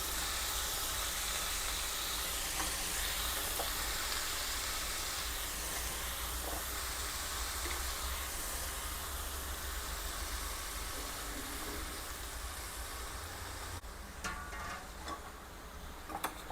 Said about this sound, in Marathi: आता मी या मसाल्यामध्ये ही वांगी घालून घेते कापलेली